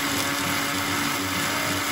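An electric blender whirs steadily as it grinds bread pieces with food colour into crumbs in a home kitchen, a loud, even motor drone held throughout with no talking.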